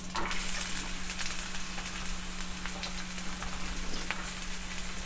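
Chopped onion drops into hot oil with mustard seeds and urad dal while making a broad beans curry, giving a steady, loud, close sizzle with faint crackles and stirring throughout.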